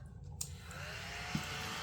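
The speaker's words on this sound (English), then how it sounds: "I got a little vacuum." A small vacuum cleaner runs with a steady, fairly quiet whirring hum, with a couple of faint clicks and no talk over it.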